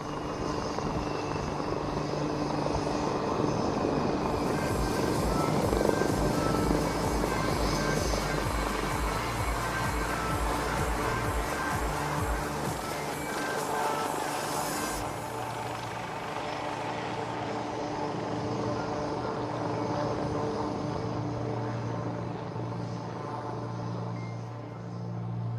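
A jet aircraft comes in to land during a flying display at the Aero India 2021 air show in Bengaluru. A loud, steady engine roar persists throughout, with no talk.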